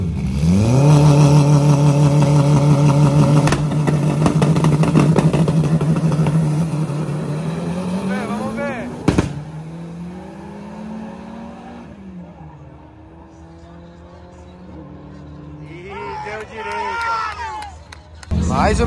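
A car idles with a loud rumbling engine at a street drag race, revving in rising steps, then launches and roars off, fading into the distance, while onlookers talk.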